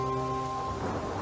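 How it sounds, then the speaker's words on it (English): Rain falls during a thunderstorm: a steady broadband hiss of rain rises after a brief tonal hum and fills the rest of the short stretch at moderate loudness. "Cool, dry air from the upper layers of the atmosphere, known as a downdraft, then pull this moisture downward, causing it to fall as life-sustaining rain."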